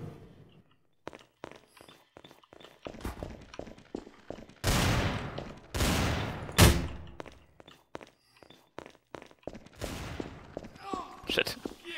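Scattered gunshots in Trouble in Terrorist Town: sharp single cracks and a few louder blasts with gaps between them, mixed with footsteps and thuds, and voices talking in between.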